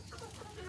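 Hens and a rooster cluck close by in a farmyard flock, a brief, steady burst of soft clucking with no voices.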